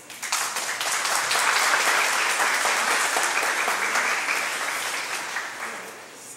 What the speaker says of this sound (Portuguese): Palmas para os dois.